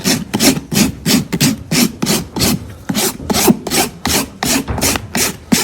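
A rasp works over a laminitic horse's hoof fitted with therapeutic rocker shoes, smoothing it in a steady series of about fifteen sharp, close scraping strokes in even rhythm.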